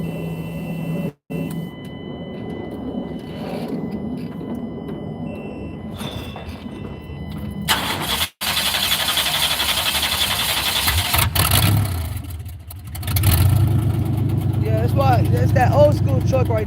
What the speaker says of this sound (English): That's that old school truck right there.